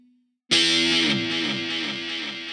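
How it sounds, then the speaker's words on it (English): An electric guitar chord played through a Catalinbread Belle Epoch tape delay pedal bursts in after a brief quiet hum, distorted and loud, with repeating delay echoes pulsing as it slowly decays. "a Catalinbread Belle Epoch tape delay"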